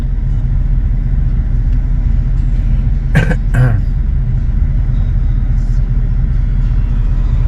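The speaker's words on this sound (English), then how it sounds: "I've got the car coming." A car approaches on a rural road near a covered bridge over Sugar Creek, a steady low engine and tyre rumble building under the wind, with a couple of brief higher sounds midway.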